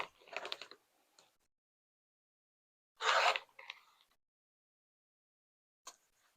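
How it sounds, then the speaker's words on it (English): Fabric squares being cut with a rotary cutter, giving a few short, dry crisp bursts separated by silence, fairly quiet and close, with no talking. "so I'm going to cut squares"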